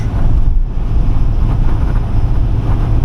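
Strong wind buffets the microphone with a constant low rumble and roar, loud and unbroken, with no voices.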